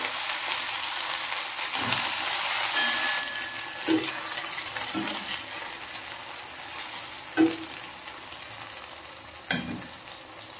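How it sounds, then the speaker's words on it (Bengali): Homemade vegetable chops sizzle and crackle steadily in hot frying oil, a close, continuous hiss broken by a few sharp pops and spatters, with no talking. "এই দেখো, এখানে আমি দুটো চপ রেডি করে নিয়েছি, আর এখানে হচ্ছে তেলটা গরম হচ্ছে, তেল গরম হয়েও গেছে। আর এগুলোকে দিয়ে দেবো"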